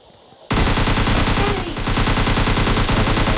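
Sustained automatic gunfire from a video game in a squad shooter match, rapid loud bursts starting abruptly after a quiet moment and continuing steadily with no pause.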